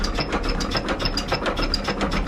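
An antique diesel generator's flywheel is turned by hand aboard a Dutch barge, giving a rapid, steady train of ratcheting mechanical clicks, close and fairly loud, with no talk.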